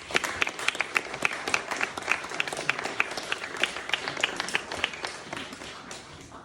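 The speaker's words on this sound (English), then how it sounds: "Let's give Brian a clap" A church congregation applauds steadily, dense overlapping claps sustained for several seconds with no break.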